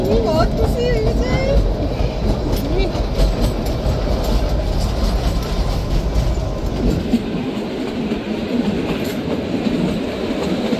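Kalka–Shimla toy train running along its mountain rails, a steady rolling rumble with wheel clatter and faint squeals throughout, close and continuous, with some voices underneath.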